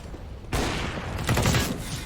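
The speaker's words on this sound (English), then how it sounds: "Spamming down middle for Surreal. He's got that auto sniper." An auto sniper rifle spamming shots in a CS:GO match at DreamHack Open Anaheim 2020, heard as a sudden loud onset of gunfire followed by a quick cluster of sharp cracks.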